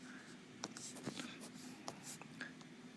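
A pen or stylus writes down a coordinate during a math lesson, soft faint scratching with a few light taps and strokes, quiet and close, with a breathy hint of a voice in the background.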